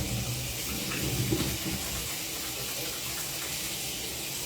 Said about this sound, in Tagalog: Hugasan ang kamay.